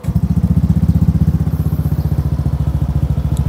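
A motorcycle fitted with a Suzuki Address exhaust cover idles close by, a steady, even low putter with rapid regular pulses and no other sounds.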